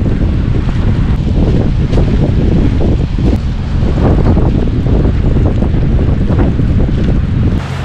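Strong wind blasts into a GoPro microphone outdoors on a snowy day in Carmel, producing a loud, continuous roaring buffet that never lets up.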